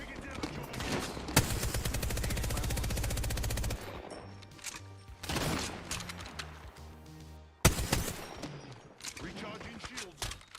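Sustained automatic gunfire in a battle royale shooter game, a long rapid machine-gun burst followed by further volleys and a sharp loud blast, with in-game voices and effects mixed in between.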